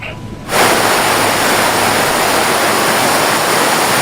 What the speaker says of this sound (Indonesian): hujan lebat melanda pelabuhan Ciwandan, Cilegon, Banten